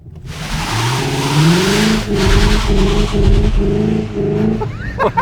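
A Cupra Leon Sportstourer e-Hybrid engine holds a loud, high-pitched sustained rev at about 6000 rpm without shifting gear, with slight rhythmic pulsing, close by and continuous.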